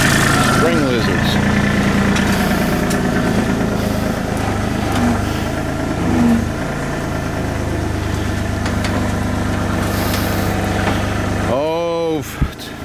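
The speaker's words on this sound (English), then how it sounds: "Oh, a mini excavator is the best tool ever." Mini excavator engine idling, a steady close diesel rumble that runs throughout, with a voice speaking over it near the end.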